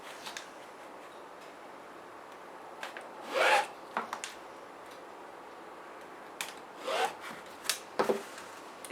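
A marker or pencil scratches short lines onto fabric at regular intervals, a few close, dry rasping strokes separated by quiet pauses.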